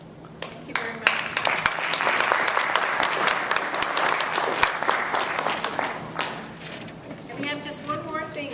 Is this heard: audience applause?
yes